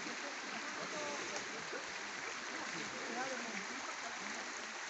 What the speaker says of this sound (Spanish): Y este es el río.